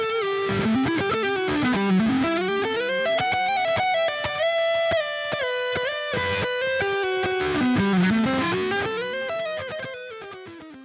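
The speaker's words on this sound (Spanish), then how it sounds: "Este sería el preset lead que trae por defecto, ¿vale? Que sería para solos, que ya está procesado con su reverb y con su delay" A lead electric guitar preset from the Mixwave Mike Stringer plugin plays a fast, bright solo with distortion, reverb and delay, its sustained melodic notes and quick runs loud and continuous for about eleven seconds.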